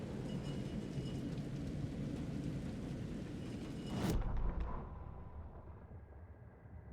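Steady rain pours across a city plaza in Alan Wake 2, with a low thunder rumble swelling around the middle before the downpour thins to a quieter hiss.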